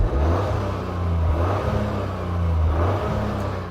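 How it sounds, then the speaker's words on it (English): Toyota GR Yaris exhaust revving with a steady low drone that rises and falls in a couple of gentle swells, fairly close and muffled, with no talk over it. "Thanks to emissions regulations, this car's exhaust doesn't sound particularly good."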